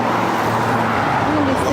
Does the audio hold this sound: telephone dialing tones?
no